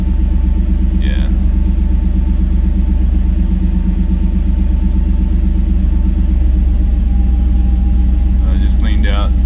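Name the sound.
turbocharged EFI 460 engine running, S480 turbo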